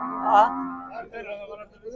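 A cow at a cattle market moos once, loud and close, a long low call swelling then fading, followed by faint murmuring voices in the background.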